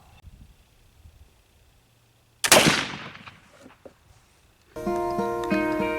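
A single loud black powder gunshot fired with homemade powder cracks nearby and trails off in a fading rumble, followed by a few faint handling sounds and then a sustained tonal musical passage.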